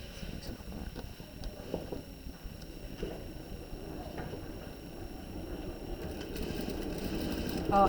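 A sewing machine running after losing its thread while sewing a princess armhole seam, a steady fast mechanical whirr and rattle that continues throughout and grows slightly louder near the end.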